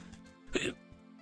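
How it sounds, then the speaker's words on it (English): A single hiccup rises out of a quiet room during a perler bead crafting session, a short close burst lasting about a quarter second, with a faint background hum and a soft thump afterward. "There's another hiccup."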